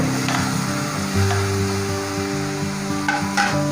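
Steady frying sizzle from a pan of onion and cashews for butter paneer, with a low hum and occasional stirring scrapes, continuous and fairly loud throughout.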